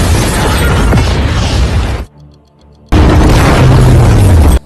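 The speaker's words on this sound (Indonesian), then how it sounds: "Setelah ledakan mereda" Heavy, loud explosions at an illegal factory: a sustained roaring blast with crackling debris, a brief quieter gap with faint rumbling, then a second full-force burst that ends abruptly.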